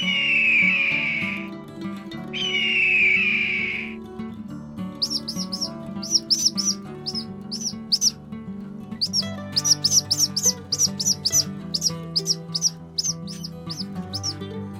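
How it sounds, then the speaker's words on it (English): A hawk, one of the birds living in Russia, gives two long drawn-out screeches, then a quick series of sharp, clipped call notes that come in bursts, clear and fairly close over a low steady background. "Listen to the sound of a hawk."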